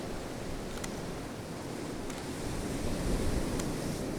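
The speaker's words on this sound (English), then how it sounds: "There's a big wave coming through again." Stormy sea waves crash on coastal rocks, a dense continuous roar of surf and wind that swells louder partway through, with no voices.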